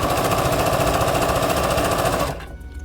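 A sewing machine runs steadily, stitching the edges of a lined couture patch pocket at a 2.5 stitch length, a loud, even mechanical whir for over two seconds before it stops abruptly.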